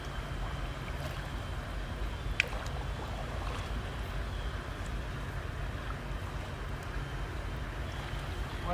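A Viking Profish GT kayak paddled by someone standing in a swimming pool: faint, steady water swishing and lapping with a soft ambient wash and one brief knock, heard quietly at a moderate distance.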